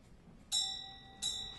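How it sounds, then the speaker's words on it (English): A single bell strikes twice, each a clear ringing toll that decays slowly, the second about 0.7 seconds after the first, in a quiet room with no talking. "The bell invites me."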